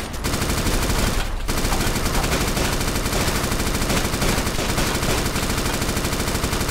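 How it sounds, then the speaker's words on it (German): Gunfire in the video game DayZ rattles in rapid, dense bursts, loud and close, with a brief gap near the start before the shooting carries on continuously. "Oh, die schießen auf mich."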